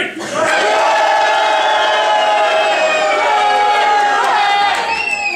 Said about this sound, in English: Keep cheering, it gives me energy.